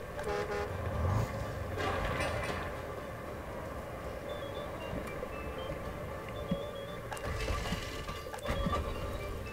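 Small buses pulling in and honking in the city-building game Workers & Resources: Soviet Republic, a short toot over a steady rumble of road traffic and engines that persists throughout.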